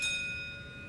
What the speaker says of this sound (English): When you hear the bell,